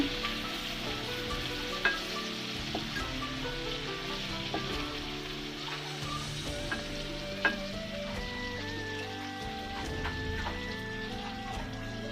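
Hilsa fish fry in oil over low heat, giving a steady close sizzle with soft crackles and occasional small pops.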